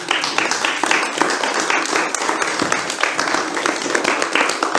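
Audience at a laïcité conference in June 2023 applauds the speaker, a dense patter of many hands clapping steadily throughout at close range, with a voice briefly audible over it.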